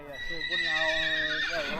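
A horse in the countryside by a remote cabin gives a long, loud whinny with a wavering, harmonic pitch that rises and quivers before trailing off, heard close up.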